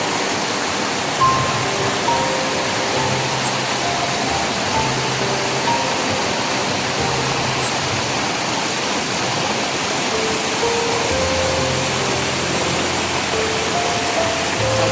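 The Ruma Gadu waterfall roars in a dense, steady rush of falling water that fills the whole scene, loud and unbroken, with faint tonal traces in the background.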